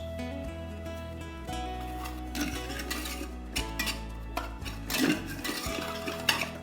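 Whisk stirring milk into saffron paste for Punjabi lassi in a bowl, giving soft scraping, clinking strokes against a steady low hum, louder bursts near the middle and end, no voices.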